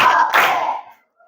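A short group hand clap from a classroom class-clap routine, a loud burst of clapping and voices that fades quickly to silence within about a second.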